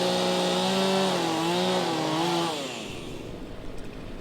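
A chainsaw revs loud and close while cutting through a large storm-downed tree blocking a road, its pitch rising and falling, then it drops to a lower, rougher idle near the end.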